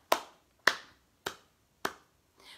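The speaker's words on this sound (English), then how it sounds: "let's clap." Four sharp, evenly spaced hand claps ring out close and alone, with a fainter fifth at the end, led by a storytime host at a library.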